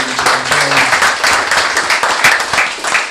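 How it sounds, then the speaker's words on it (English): Applause from an audience at a community gathering, a steady dense patter of many hands clapping that carries at even loudness throughout, with faint low tones underneath. "So I like to give the round of applause for these guys too."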